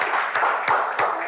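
A crowd at a talent show keeps up continuous applause, a brisk even wash of many hands with a few louder claps standing out, no talk over it.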